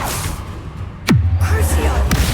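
Confringo fire spell cast in Hogwarts Legacy, a single sharp whooshing burst that drops into a low rumbling boom, with a second brief crackle near the end, played loud over steady game ambience.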